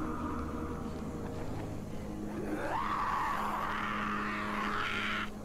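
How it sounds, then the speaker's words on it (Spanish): Screams and shrieks from people in the zombie game Dying Light, a rising wailing cry swelling over a constant loud rumbling background, with no talk. "venga a escuchar gritos"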